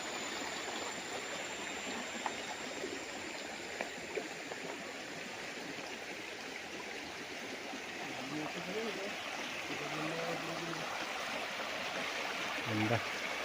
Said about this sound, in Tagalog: Dinaanan ng ilog ang inyong property.